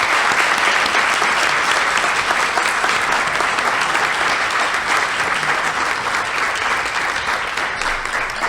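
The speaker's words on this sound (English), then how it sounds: "Please join me in giving all of our ECLC teachers and administrators a huge round" An indoor audience at an annual community meeting gives a long, loud, dense round of applause for early childhood center teachers and administrators, sustained evenly throughout.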